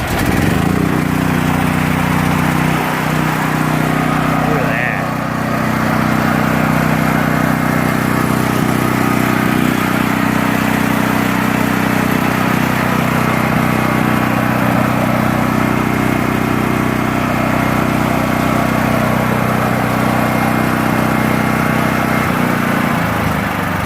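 A choked portable generator engine runs loud and close, its rough mechanical drone holding steady and unbroken the whole time with no voices.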